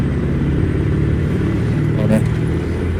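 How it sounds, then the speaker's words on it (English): Steady, low truck engine drone from American Truck Simulator, driving the Dalton and Elliot Highways, holding an even rumble throughout without noticeable revving. "Listen to that engine purr."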